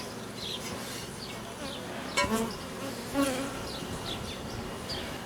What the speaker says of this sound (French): Donc les abeilles qui sont dehors vont rentrer.